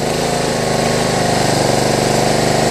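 A lawn tractor engine fitted with an electric fuel pump runs close and loud, its revs rising and falling in a steady surging pulse with no voices.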